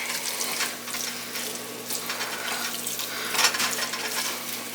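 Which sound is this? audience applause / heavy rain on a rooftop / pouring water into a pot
pouring water into a pot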